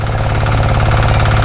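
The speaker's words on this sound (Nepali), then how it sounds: "ट्र्याक्टर निकालौँ ल" A tractor engine running nearby, a loud, steady low diesel chug with a fast even knocking rhythm throughout, no voices over it.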